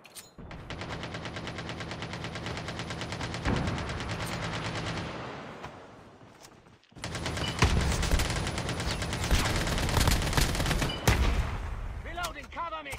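Call of Duty Mobile gunfight with grenades being thrown: dense, rapid automatic gunfire in two long stretches with brief sharp blasts, loud and continuous, with voices talking over the combat.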